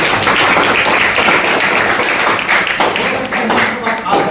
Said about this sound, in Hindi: तो आपके लिए एक बार हर्षिता के लिए जोरदार ताली